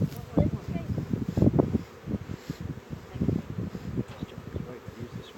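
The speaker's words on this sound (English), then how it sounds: "Bees everywhere. There are bees everywhere." Honey bees buzzing steadily around the listener, a close droning hum with people talking over it and some rustling.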